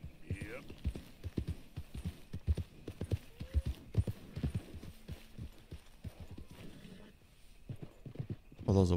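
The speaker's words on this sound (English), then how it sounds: "Those are wild horses." Wild horses in Red Dead Redemption 2 trot with repeated hoof clip-clops, low rhythmic thuds over a faint hum, with a brief neigh and louder game noise at the end.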